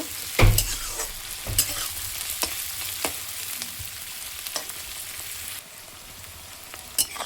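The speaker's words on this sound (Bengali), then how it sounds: "পেঁয়াজটা দেখুন একটু নাড়াচাড়া করে নিয়েছি" Onion stirred and lightly fried in a pan for a Bengali lotta fish dish, steady soft sizzle broken by several sharp scraping stirs, close and clear with no talking.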